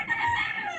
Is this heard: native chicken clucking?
yes